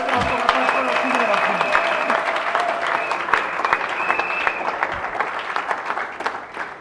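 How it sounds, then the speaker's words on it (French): A church congregation claps and cheers loudly and continuously, dense sustained applause filling the hall with voices mixed in. "Acclamons très fort le roi des rois."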